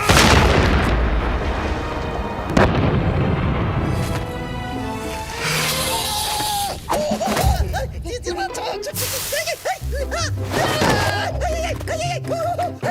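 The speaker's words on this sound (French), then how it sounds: "Deuxième canon. Feu!" A heavy cartoon cannon boom rings out early, followed by crashing, rumbling effects, with a voice shouting over the cartoonish din.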